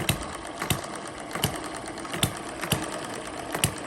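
A small model hit-and-miss engine turns over on a homemade mini dynamometer, giving sharp, evenly spaced firing knocks about every half to three-quarters of a second over a steady mechanical whir, close and fairly quiet.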